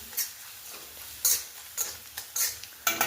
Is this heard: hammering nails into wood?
no